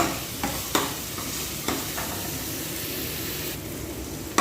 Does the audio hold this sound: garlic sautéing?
yes